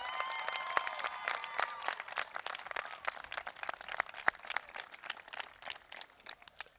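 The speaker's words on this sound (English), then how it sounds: "Please applaud the people who have supported you for 13 years." Audience at a high school graduation clapping, a scattered, moderately distant round of applause with individual claps standing out, continuing throughout and easing slightly toward the end.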